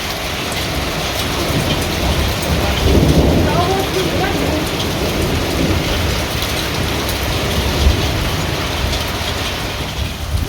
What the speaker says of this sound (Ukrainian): класна погода, закінчилась зливою, просто з градом